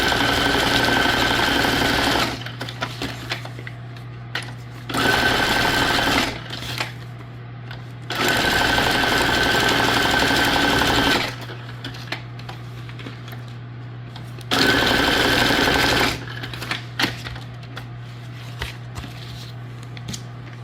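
A sewing machine stitches paper and fabric junk journal tags in several loud, close runs of rapid, buzzing mechanical whir lasting a few seconds each, separated by quieter pauses with faint handling.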